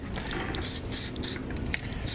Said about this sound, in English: I'm gonna use some silicone spray.